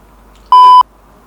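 A single steady electronic beep tone, loud and clean, lasting about a third of a second between quiet stretches.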